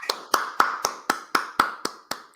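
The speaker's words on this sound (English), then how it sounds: "I'm clapping because I'm happy for him." Hands clap nine times in an even, steady rhythm, each clap sharp and close with a short ringing decay, with no talking over them.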